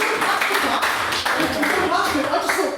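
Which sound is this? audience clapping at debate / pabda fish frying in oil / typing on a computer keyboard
audience clapping at debate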